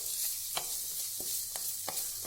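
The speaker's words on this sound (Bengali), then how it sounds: "ভালো করে নাড়তে থাকবো যতক্ষণ না ভাজা হতে থাকবে।" Fried rice sizzles steadily in a pan while a spatula stirs it, a few sharp scraping strokes at irregular intervals over a constant hiss, close up.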